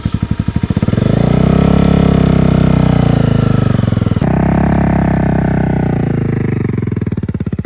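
A Honda CBR250 motorcycle pulls away after the clutch is released, its engine note loud and close with a steady, slightly rising drone that holds throughout.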